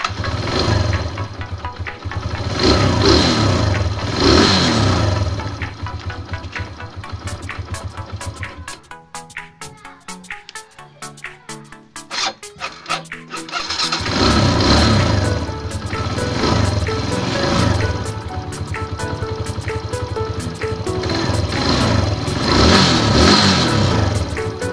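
A Kawasaki Fury Newbreed motorcycle engine starts and revs, loud buzzing bursts rising and falling, a rough sputtering idle dip in the middle, then strong revving again, close by with no talk.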